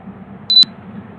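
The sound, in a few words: beep from UFI box during eMMC identification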